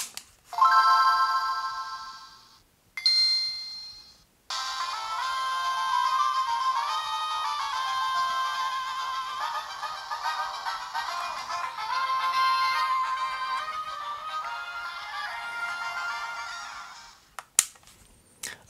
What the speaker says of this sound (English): let's do Pokemon Ruby in a GBA with all the mods that the other two have